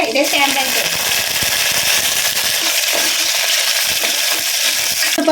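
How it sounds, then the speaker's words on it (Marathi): Mustard seeds, cumin and onion sizzle in hot oil with a loud, steady crackle that fills the whole stretch, and a voice talks over the frying. "इथे आपली मोहरी चांगली तडतडलेली आहे"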